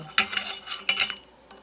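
Metal canning lids clinking against each other and a pot, two or three bright close clattering bursts with short pauses between, ending on a faint tap.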